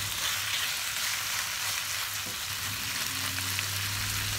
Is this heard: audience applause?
no